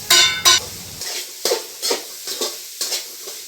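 Spice powders for chole sizzle and scrape in a pan, with two loud clanks of a spoon, then a series of soft, evenly spaced stirring strokes.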